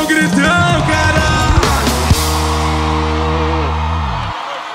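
Concert crowd at a live show shouting and cheering loudly alongside dense, booming music that cuts off abruptly near the end.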